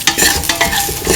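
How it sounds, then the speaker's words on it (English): A spoon stirs salt into an okra and winter melon coconut milk stew, making repeated close scraping strokes in an uneven rhythm over a soft simmering sizzle. "Thoroughly mix in the salt."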